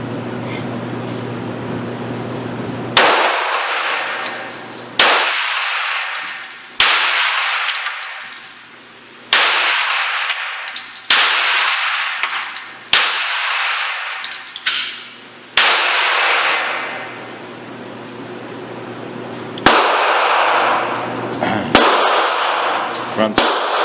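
A 1911 pistol fires seven sharp, loud shots at irregular intervals of a few seconds, each crack followed by a brief ringing decay, with no talking between them.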